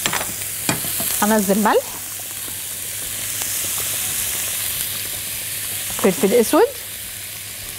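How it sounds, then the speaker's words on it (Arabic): Minced onion frying in butter in a pan, a loud continuous sizzle and hiss with stirring, while someone talks over it. "هنزل البصل المفروم"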